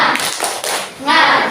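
A school class doing a rhythmic spirit clap, a few quick bursts of many hands clapping in pattern, close and loud, mixed with children's voices calling out.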